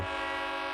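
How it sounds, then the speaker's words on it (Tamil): A train horn blares in a single sustained, loud, steady tone, heard alone with no talk. "ரயில் ஹார்ன் சத்தம் கேக்குது."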